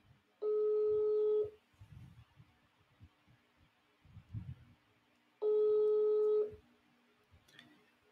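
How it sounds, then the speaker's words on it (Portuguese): A mobile phone placing an unanswered call, with two long steady ringback tones several seconds apart, loud and clear, and faint background murmur and rustle in the gaps. "Tô ligando aqui, ó, pro Hélio."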